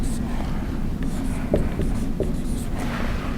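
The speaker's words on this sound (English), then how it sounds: "let me go ahead and write it over here." A marker writing on a classroom board, faint squeaks and short taps over a steady room hum during an economics lecture, with no talk heard.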